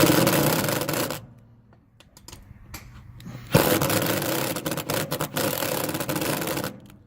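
A bolt is torqued with a wrench while a LilliPad diving board is installed on a Bennington SX21 boat: close, harsh rasping bursts of metal work, broken by a quieter gap in the middle, with no talking.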